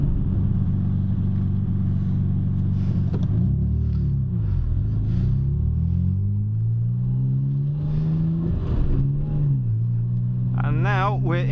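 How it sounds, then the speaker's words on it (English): A Nissan Skyline GT-R R34 drives on a mountain road with a steady low exhaust drone that rises and falls as the revs change, and talking can be heard over the engine. "the slight drone it has from the exhaust"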